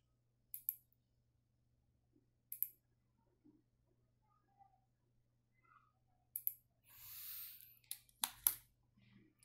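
Computer mouse clicks during structural modelling software work, faint single and double clicks spaced irregularly in a quiet room, with soft rustling between them.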